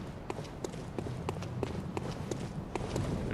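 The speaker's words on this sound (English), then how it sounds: "Somebody around. I hear some footsteps." Footsteps from a character moving nearby in a video game on a PS5 Pro, a steady run of soft, regular steps over a constant low background rumble.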